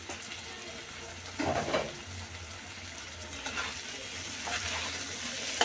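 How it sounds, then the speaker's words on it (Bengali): Bitter gourd and potato frying in a covered pan until charred, giving a steady low sizzle with a few louder bursts of stirring scrapes. "এরকম পোড়া পোড়া করে ভাজে নেবেন"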